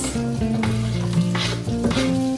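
Onions sautéing in a pan for a Filipino-style dinner hiss and crackle loudly and up close while being stirred, with a sustained tonal hum running underneath.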